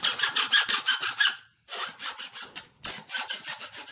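A hand saw cuts through sewer pipe in quick, close, rasping back-and-forth strokes, grouped into three runs separated by brief pauses.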